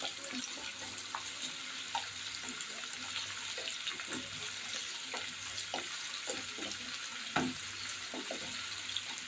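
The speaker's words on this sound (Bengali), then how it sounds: "এখন এগুলো ভালো মতো ভাজা হোক।" Chopped onions and dried chillies frying in hot oil, giving a steady, moderate sizzle with a few soft clinks and stirring taps scattered throughout.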